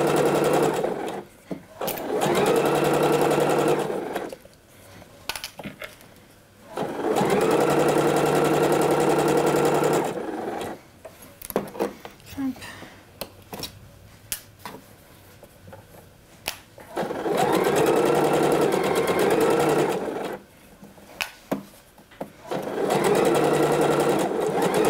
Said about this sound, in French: on coud tout droit